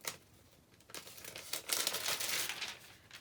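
Freezer paper pattern pieces for a quilt block are pulled apart by hand, giving close crinkling and tearing rustles that build from soft to louder over a few seconds, with no talk.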